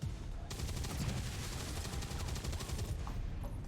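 Rapid gunfire from XCOM 2 during a tactical turn, a sustained burst of repeated shots lasting several seconds under a steady game soundtrack.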